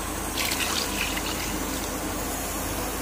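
Water poured into a simmering fish curry in a pan, a steady, close splashing trickle that runs unbroken for about three seconds with no voices.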